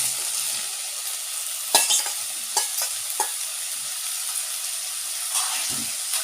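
Drained cauliflower is tipped into a sizzling pan for paal kari and stirred, producing a bright steady sizzle punctuated by several sharp spoon scrapes and knocks, close and without speech.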